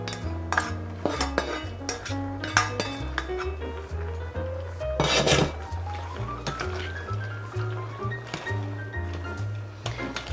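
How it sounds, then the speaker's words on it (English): A utensil scrapes and clinks around a pan while Alfredo pasta with broccoli and tomato is mixed, producing repeated close metallic strokes over a low steady hum, with a voice speaking briefly. "Keep on mixing."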